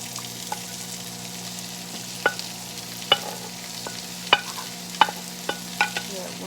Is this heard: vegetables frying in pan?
yes